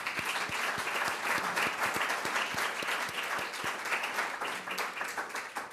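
An audience at a university research prize and medal ceremony applauds award winners, with crisp individual claps layered over a steady, moderately distant wash of clapping that holds throughout.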